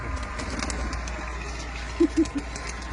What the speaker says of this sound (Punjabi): ਇੱਧਰ ਵੀ ਕਬੂਤਰ ਹੀ ਨੇ ਬਾਈ ਸਾਰੇ ਦੇ ਸਾਰੇ